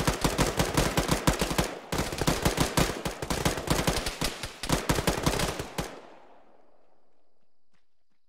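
Sustained rapid gunfire in the military shooter ShackTac, a loud, close burst of automatic shots in quick rhythm for about six seconds with one brief pause, then cutting off into a fading echo and quiet.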